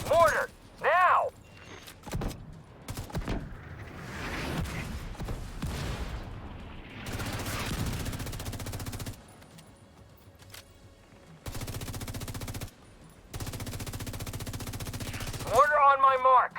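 Mortar strikes and gunfire in the video game The Division 2 pound repeatedly, with loud sustained bursts of fire and explosive booms broken by brief gaps, while voices and game chatter sound now and then.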